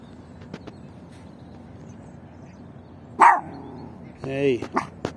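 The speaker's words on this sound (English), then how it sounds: "Hey, hey, you stop barking. You're going to wake up everybody here." A Yorkshire terrier lets out a sharp, high bark, then a quick cluster of yappy barks a second later, close by over quiet room noise.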